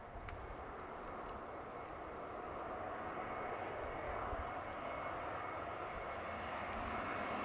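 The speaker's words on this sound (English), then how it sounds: "This is our Volaris flight." Volaris jet airliner arriving from Guadalajara and landing at Seattle on runway 34 left, a steady distant engine roar that slowly grows louder.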